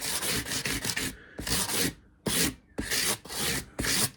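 Metal file rasping across the tops of frets on a cigar box guitar neck, a close series of loud, steady strokes with short pauses between them, no voices.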